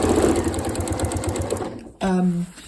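A Janome Horizon Memory Craft 9480 sewing machine stitches steadily during ruler quilting, its rapid motor hum running under talk, then pausing briefly before a short final burst.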